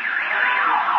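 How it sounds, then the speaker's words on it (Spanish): A car alarm set off by heavy gunfire at a house wails loud and close, a steady electronic tone sweeping up and down throughout the short burst. "El estruendo activó las alarmas de algunos autos."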